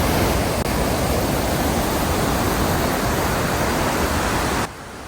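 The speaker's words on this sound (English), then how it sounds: "That was the Lower Falls under the Monroe Bridge, just a short walk from downtown." Spokane's Lower Falls pour beneath the Monroe Bridge in a dense, loud, unbroken roar of rushing water that holds steady, then drops abruptly to a quieter wash near the end.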